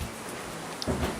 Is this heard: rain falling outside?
yes